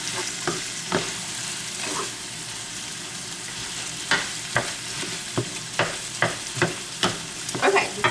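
Onions and ground beef fry in a pan with a constant sizzle, punctuated by repeated sharp scrapes and taps of a utensil that come faster toward the end.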